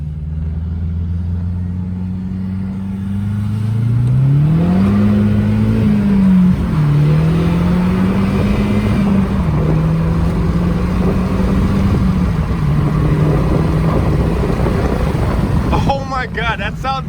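A 2010 Mazdaspeed 3 with a CorkSport axle-back exhaust accelerating, heard from the cabin. A low exhaust drone rises steadily in pitch and holds, loud under heavy wind rush, with a short clatter at the end.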